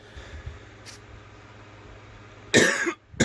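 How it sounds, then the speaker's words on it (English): A person's coughing fit indoors: a brief faint cough early, then a loud harsh close cough burst near the end that pauses and starts again, with no talk. "a little coughing fit there."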